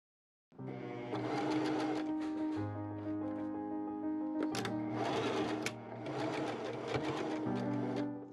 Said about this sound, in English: I machine sewed that in place